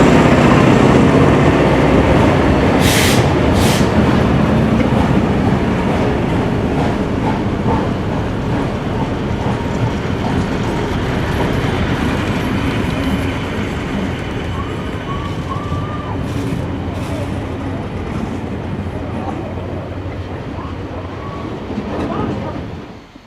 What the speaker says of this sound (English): With the passengers on board, the two locomotives will now make their way to Picton.